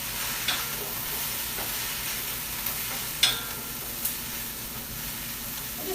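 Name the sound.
stirring onions and vegetables frying in a pan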